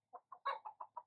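Chickens on a farm with a petting-zoo area of geese, donkeys, goats and rabbits give six short, evenly spaced clucks, the middle one longer and louder, heard close and clear with no talking.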